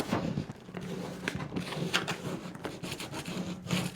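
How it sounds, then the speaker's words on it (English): Steady rubbing and scraping as a tool burnishes Starcraft vinyl down onto a surface, a close, continuous rasp with repeated strokes and no talking. "Now we're going to burnish."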